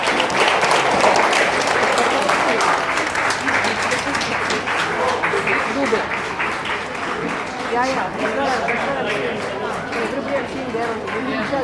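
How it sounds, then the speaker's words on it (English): Sustained audience applause at a young authors' book launch, dense steady clapping lasting throughout with crowd chatter mixed in. "Be generous with your applause, everybody"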